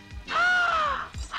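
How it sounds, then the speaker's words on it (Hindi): A parrot kept in a house gives one loud, harsh squawk that rises and falls, standing alone near the listener with brief quieter calls at the edges. "यह तो तोता भी है।"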